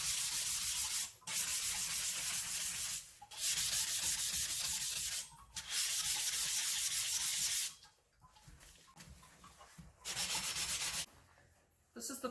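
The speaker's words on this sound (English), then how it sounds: "Between each grit, I also need to sand the edges here, which is my beveled edge. So I use these diamond hand pads to do that." Diamond hand pads rub along the beveled edge of a glass piece in long, steady scraping strokes, loud and close, broken by short pauses and a few shorter, softer passes near the end, with no talk.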